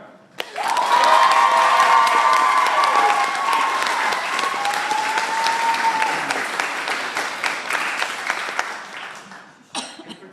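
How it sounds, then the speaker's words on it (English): Loud, sustained applause with whoops and cheering from a crowd voting by applause for a contestant in a cough-off contest, swelling quickly, holding strong, then thinning out near the end. "So by applause, please share appreciation for Dr."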